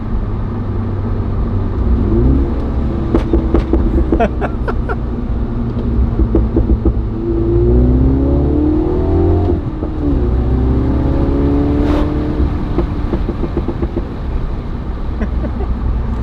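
A 2019 MINI John Cooper Works with a Pro Exhaust revving loudly close up, rising and falling through repeated throttle blips, with sharp exhaust pops and crackles between revs.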